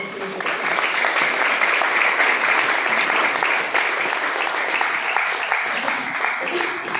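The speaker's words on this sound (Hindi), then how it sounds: "एक बार तालियां" Sustained applause from a seated audience at a network marketing business meeting, a dense continuous wash of many hands clapping at steady loudness throughout, with no voices standing out.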